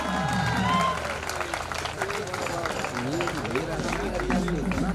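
An audience at a college event gives lively applause for non-academic staff member Hari Yadav, a dense continuous wash of clapping mixed with crowd noise and overlapping voices.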